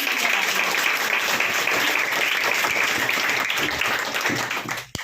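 Loud, dense applause fills a prayer healing meeting, a steady wash of many hands clapping together that cuts off abruptly at the end.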